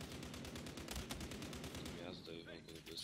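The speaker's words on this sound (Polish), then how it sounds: "Gościu ma tu G36C, zobaczymy jak to jest. Się strzela." A G36C rifle firing in a rapid automatic burst in Battlefield Hardline, loud, close and evenly paced, then giving way after about two seconds to quieter mixed game sounds.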